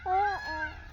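A peacock in a farm field gives a single loud, nasal honking call that rises and falls within about a second, near and clear over quiet background.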